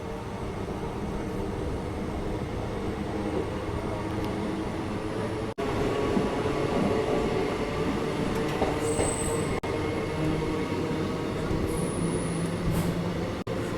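A passenger train rumbles steadily past a railway station platform on the Vijayapura–Mangaluru line, wheels clattering continuously with faint high squeals, growing slightly louder midway; no one speaks.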